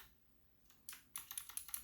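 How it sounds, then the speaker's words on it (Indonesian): Key presses of the FN and Print Screen keys on an HP GK400Y mechanical gaming keyboard with blue switches, a handful of crisp clicky strokes in quick succession, close and fairly quiet. "Coba kita dengarkan saja FN dan print screen."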